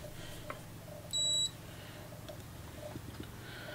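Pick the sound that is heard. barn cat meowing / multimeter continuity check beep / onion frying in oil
multimeter continuity check beep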